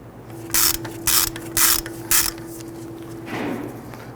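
A ratchet turns out a brake caliper slide pin bolt on a 2011–2019 Ford Explorer in four quick, loud bursts of clicking, followed by a softer scraping rub as the bolt comes free.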